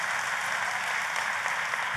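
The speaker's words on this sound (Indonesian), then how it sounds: "Kita kasih tepuk tangannya yang paling meriah buat Tuhan kita." Steady, dense applause from a large church congregation at a Christmas service, sustained evenly throughout with no voices rising above it.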